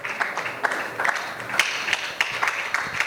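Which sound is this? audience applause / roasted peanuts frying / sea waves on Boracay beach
audience applause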